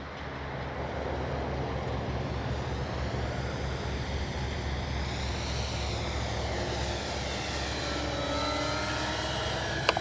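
A radio-controlled B-25J warbird model flies a low, slow pass down the runway with flaps up, giving a steady, loud, droning engine roar whose pitch sweeps as it goes by.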